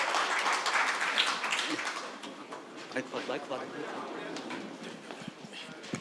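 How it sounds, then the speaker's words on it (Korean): Crowd applause at a forum seminar with Seoul mayor Oh Se-hoon, dense clapping from many hands that gradually thins out, with voices mixed in underneath. "큰 박수 부탁드립니다"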